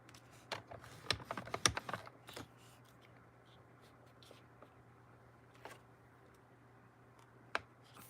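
A paper trimmer blade scores cardstock with a cluster of quick close clicks and scratches, then sparse single ticks after a quiet stretch.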